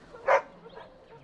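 A puppy gives a single short yip-like bark in a fantasy role-playing game, then a couple of fainter follow-up whimpers trail off quietly.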